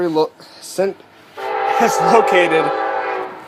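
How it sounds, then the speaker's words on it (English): A train passes on the railroad right beside an office, its horn blaring in a long, loud, sustained blast after a couple of shorter tones. "I do apologize if you hear a train"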